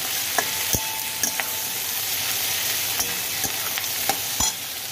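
Tomato, cashew, green chilies and coriander fry in a pan with a continuous sizzle, while a spoon knocks and scrapes against the metal several times in an uneven rhythm as the mixture is stirred, with no one speaking.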